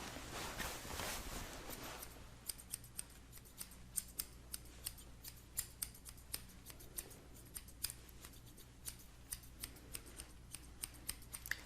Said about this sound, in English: Just scissors.